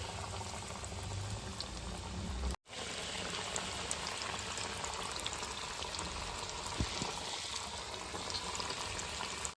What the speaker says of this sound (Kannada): ಈಗ ಎಣ್ಣೆಯಲ್ಲಿ ಡೀಪ್ ಫ್ರೈ ಆಗ್ತಿದೆ.